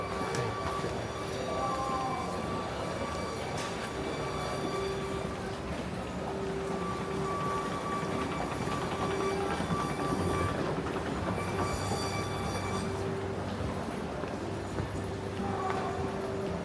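Steady rumble of a passenger train ride in Japan, continuous rail noise with faint clatter and a sustained tonal hum heard from inside the car, no talking.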